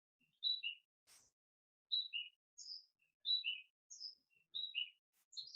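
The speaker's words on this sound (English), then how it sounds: "Birds are really chirping." Birds chirping outdoors, repeated clear high two-note tweets in a regular pattern, fairly faint and distant against an otherwise quiet background.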